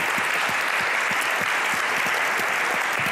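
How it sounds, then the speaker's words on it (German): Warm audience applause at a German communication award ceremony for the new jury chair, a loud continuous clapping crowd with some rhythmic low thumps running through. "bitten wir Sie jetzt nochmal um einen ganz herzlichen Applaus für Frau, Frau Professor Dr. Julika Green"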